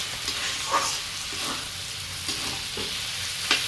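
Sago stirred in a hot pan while cooking sabu khichuri: a continuous oily sizzle broken by soft scraping strokes of a spoon every second or so, close and fairly loud, with no talking.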